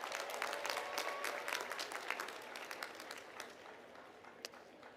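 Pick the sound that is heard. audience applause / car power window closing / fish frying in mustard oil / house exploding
audience applause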